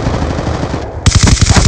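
Rapid automatic gunfire in Black Ops II, loud and close, a fast rattling burst that breaks off briefly and then resumes even harder.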